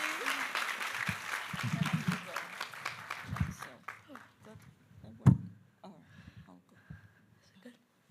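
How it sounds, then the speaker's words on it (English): Audience members at the BHFF 2025 awards ceremony give a volunteer a round of applause, fairly faint clapping for about three seconds, then scattered claps, voices and small noises in a hushed hall. "Let's give our volunteer a round of applause."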